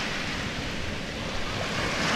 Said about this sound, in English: see the ocean waves.